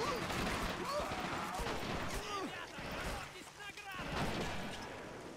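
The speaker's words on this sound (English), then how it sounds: "That mortar's just gonna pound away" 150 mm mortar fire in a strategy video game, with repeated muffled booms and crackling impacts pounding away at moderate volume beneath a voice talking.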